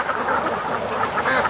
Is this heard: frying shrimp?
no